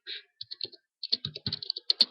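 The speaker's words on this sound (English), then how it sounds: "Sorry for the clicking, my mic's right next to my keyboard." Computer keyboard keys clatter in quick, uneven bursts close to a microphone, with a few sharp louder clicks near the end and no voices.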